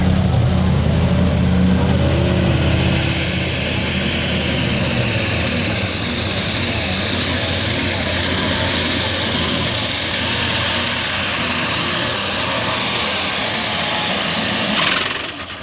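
Pulling tractor engine roaring at full power during a truck and tractor pull run, a loud sustained high-pitched whine and rumble that holds steady for about fifteen seconds before cutting off abruptly at the end.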